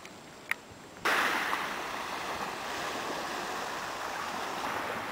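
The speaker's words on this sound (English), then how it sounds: "That there is the Pacific Ocean." Pacific Ocean surf washes steadily against the shore, a broad continuous hiss and roar that swells in loudly after a quiet second and holds, with no voices.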